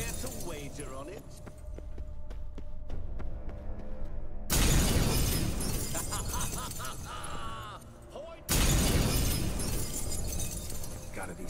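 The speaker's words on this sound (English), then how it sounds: "Gotta be some mirror here you won't shatter" Glass shatters in The Witcher 3: Wild Hunt, two sharp, loud crashes of breaking with brittle debris tinkling after each, among game ambience and music.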